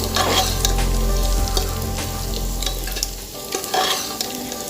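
Cashews being stirred into simple pulao in a hot pan make a steady sizzle with scraping spoon strokes against the metal, close and continuous, without any talk.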